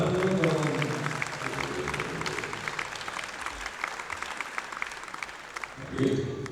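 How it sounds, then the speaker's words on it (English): Applause from the crowd at a world classic powerlifting championship medal ceremony, a dense spread of clapping that swells at the start, settles into a steady patter, then rises again near the end. "Round of applause."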